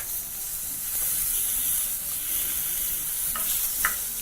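Mutton chops sizzle on a grill in a continuous close hiss, with a couple of short clinks and scrapes near the end as they are turned.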